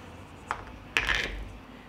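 Glass jars are set down into a cooking pot lined with a cloth, giving two brief muffled clinks about half a second apart, close by and quiet.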